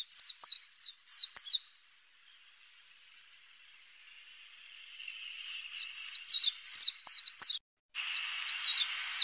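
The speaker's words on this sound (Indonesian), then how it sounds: "Pleci terkenal dengan suara kicauannya yang keras dan merdu." Short bursts of high, rapid chirping song from a Japanese white-eye in the wild, repeated in phrases with a quiet pause between, clear and fairly close with no other sounds.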